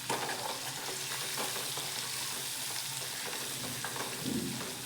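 Egg with spices sautés in a pan, a constant close sizzling hiss with soft stirring scrapes and no talking.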